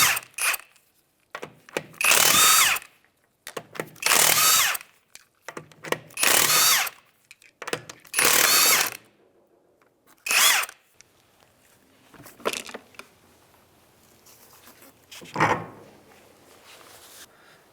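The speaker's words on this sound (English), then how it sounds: "We're going to remove the rear wheel. It's going to be a 19 millimeter. Go ahead and take off the lug nuts now." An impact power tool spins off 19 mm lug nuts from the rear wheel of a 2003-2011 Honda Element, loud close whirring bursts of about a second each, repeated several times with brief pauses and lighter clatter after.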